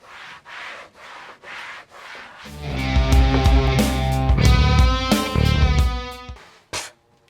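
Hands rub the bodywork of a 1968 Mustang Fastback during a wash, near a rubber seal. A few soft rhythmic rubbing strokes build into a loud, sustained squeaking screech with strong ringing overtones, close up and with no talk.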